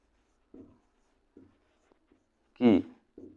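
A teacher writes during an HSC ICT class on number systems: a few short, separate strokes spaced over a few seconds, close and fairly quiet, with a brief burst of voice near the end.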